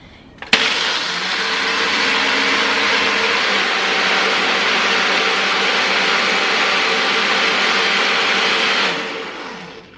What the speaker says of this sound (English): I'm going to attach this to the blender. This is a Ninja Professional 1100 watt.